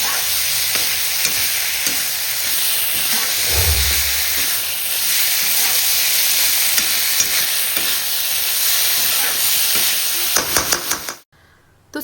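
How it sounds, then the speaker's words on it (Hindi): Loud, continuous sizzling and hissing of vegetables being tempered in a hot kadhai, with occasional stirring clinks, cutting off near the end. "तो सब्जी हमने छौंक दी है"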